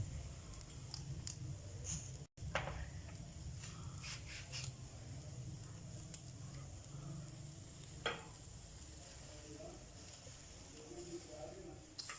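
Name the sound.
chicken leg pieces cooking on a tawa, stirred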